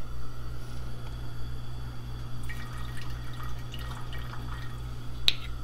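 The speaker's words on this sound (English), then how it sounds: "I'm gonna drop in a couple drops of a neutral vinegar" A drop of neutral vinegar falls into rhubarb ginger compote, making a single sharp little drip near the end over a low, steady background hum.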